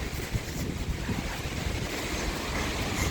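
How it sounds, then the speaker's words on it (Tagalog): Steady broadband roar of a very tall waterfall in the Philippines, continuous rushing water with some wind buffeting the microphone, no talking. "It's the falls."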